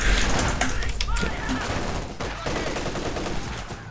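Machine gun fire from the World War II strategy game Company of Heroes 2, loud bursts and dense crackling shots mixed with other battle noise under a voice talking.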